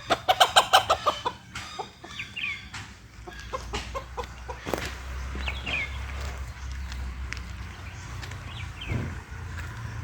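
A village rooster in the Konkan countryside clucks in a quick burst of loud, close calls, then keeps up scattered softer clucks over a quiet morning background.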